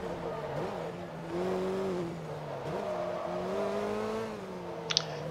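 A stock Volkswagen engine in the racing game Forza Motorsport 2 revs and drops in pitch through gear changes, a steady mid-level drone with tire squeal, while someone talks over it.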